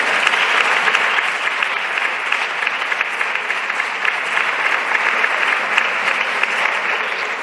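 Steady, dense applause fills a parliamentary plenary chamber, many hands clapping continuously at an even level throughout without pause.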